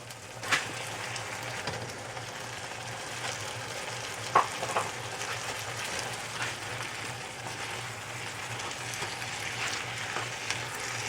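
Frozen peas hit a hot pan of pav bhaji mixture for a Mumbai-style pav bhaji, giving a steady close sizzle and frying crackle with a few soft stirring knocks.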